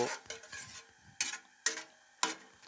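Almonds frying in hot ghee, with a few quick spoon scrapes and light clinks against the pan over a soft, low sizzle, close and fairly quiet.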